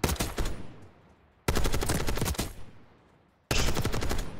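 XMG machine gun firing in Black Ops 6, three loud sustained bursts of rapid automatic fire separated by brief pauses, up close with no talking.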